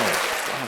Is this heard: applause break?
yes